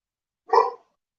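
A dog gives one short, sharp bark that is close and loud against silence.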